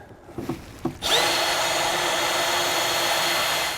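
A power drill whirs up after a couple of soft knocks and runs steadily at full speed to the end, drilling for a battery disconnect switch on a 2007 Starcraft motorhome.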